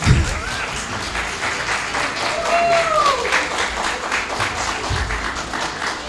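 Crowd clapping for performers at a Chinmaya Vrindavan gathering, a sustained wash of applause with scattered voices and a brief whistle-like tone mixed in.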